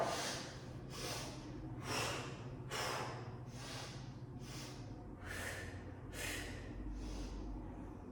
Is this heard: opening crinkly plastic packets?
no